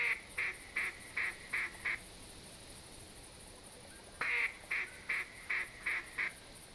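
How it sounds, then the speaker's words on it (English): Ducks quack in quick bursts during a hunt, a run of six sharp calls, then a pause and another loud series, close and clear over a quiet outdoor background. "Ducks inbound"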